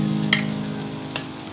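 Buttered shrimp with garlic stir-fried in a pan, a steady close sizzle with two brief sharp stirring scrapes against the pan, no voices.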